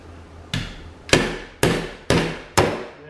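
A hammer strikes a socket to drive out the shaft seal of a JB DV-6E vacuum pump on a Harvest Right freeze dryer: five loud, sharp metallic blows spaced about half a second apart over a steady low hum.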